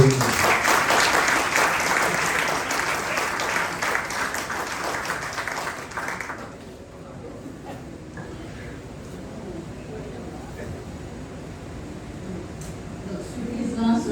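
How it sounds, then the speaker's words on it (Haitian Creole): Audience applause at a certificate ceremony, a loud dense burst of clapping for about six seconds that drops off abruptly, leaving a low murmur of crowd noise and scattered faint claps that swell slightly at the end. "On va dire un gros bravo."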